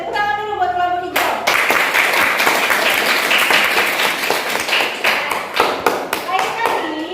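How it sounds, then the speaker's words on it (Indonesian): A classroom of students claps for a drama group after their performance, loud dense applause starting abruptly after a brief tone and continuing with scattered sharper claps. "tepuk tangan dulu buat kelompok hijau."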